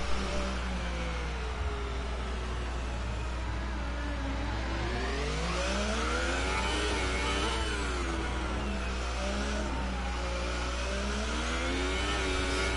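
A car engine in a racing video game set in Monaco revs hard and steadily, its pitch sweeping up and down as it accelerates, loud and continuous with no talking.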